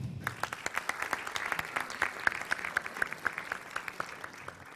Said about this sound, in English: a big clap for Ekaterina Matbeva